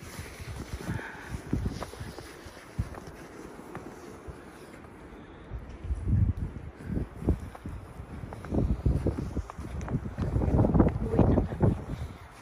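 Cold wind on a winter outing in Norway buffets the microphone in gusty, uneven bursts that grow stronger toward the end, with faint voices in the background.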